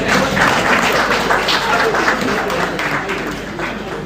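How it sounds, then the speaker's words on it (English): Sustained audience applause for a panel at an alumni association graduation ceremony, dense steady clapping filling the room for several seconds and slowly easing off. "A final round of applause for our panelists."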